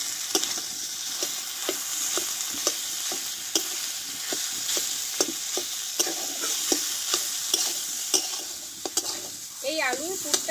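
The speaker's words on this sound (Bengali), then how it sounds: "একটু ভালোভাবে কষিয়ে নেব" A boiled potato filling with ginger sautéed in a pan: a continuous sizzle broken by regular spatula scrapes and taps about every half second, close and clear, with a brief clatter near the end.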